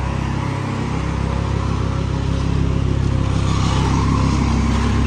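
A black Audi R8 engine runs loud and close with a steady deep rumble and a slight rise in intensity toward the end, unbroken by talk.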